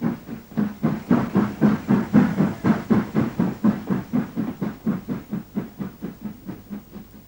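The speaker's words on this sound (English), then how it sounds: "a flashback to the last steam freight train to use the route" Steam freight locomotive working through a railway tunnel, its exhaust beats chuffing in a steady, rapid rhythm, loud and close, with a booming enclosed echo and no voices.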